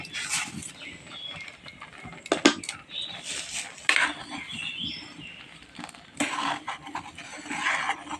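Food is stirred in a cooking pot with a metal utensil, irregular clanks and scrapes against the pot's sides and bottom, some sharp and louder, with quieter shuffling between strokes.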